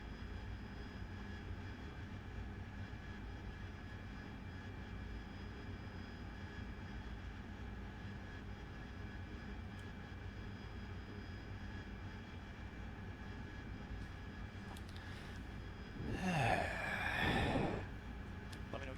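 Harrier jet in the DCS flight simulator over Afghanistan, a steady, muffled engine roar droning continuously at low level, with a brief swell of breathy noise near the end.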